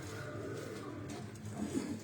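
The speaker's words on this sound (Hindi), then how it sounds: "ये वो दोस्तों ये चीने कबूतर जिनका मैं आपको बता रहा था" Cheena breed pigeons kept in large numbers at a breeder's loft in Pindi coo in a soft, low murmur, with a slightly louder burst near the end.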